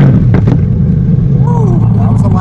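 A Chevrolet Corvette C8 engine with a Borla exhaust rumbles loudly and steadily at idle after a cold start, a low throaty exhaust drone with a brief voice over it.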